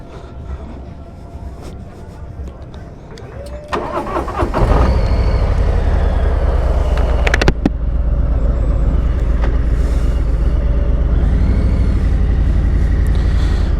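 A 2021 Harley-Davidson Street Bob 114 motorcycle revs up and pulls away, a loud low rumble building after a few seconds of lighter clatter, then holding a steady drone.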